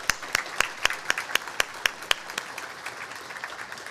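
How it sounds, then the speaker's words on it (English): Audience applause at a real estate forecast conference, a steady spread of claps with a few sharp nearby hand claps standing out, gradually thinning toward the end. "So let's give them all a round of applause."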